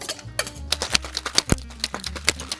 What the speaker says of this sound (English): and then we're gonna shake.